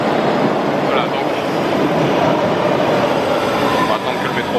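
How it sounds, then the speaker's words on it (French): A subway train roars through a metro station at Kendall/MIT in Cambridge, a loud, steady rumble filling the whole stretch with no break, masking everything else. "on va attendre que le métro passe"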